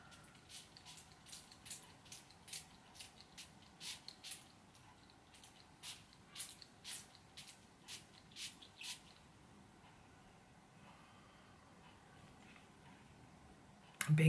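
A spray bottle is pumped in a quick run of short, sharp spritzes that stop partway through, leaving a quiet room tone with no talking.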